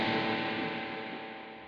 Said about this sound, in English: so then spring reverb